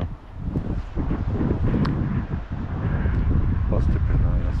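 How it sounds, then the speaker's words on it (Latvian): Strong gusty wind at a lakeside fishing spot, buffeting the microphone with a loud, continuous low roar that swells and dips throughout. "Pastiprinājās vējš."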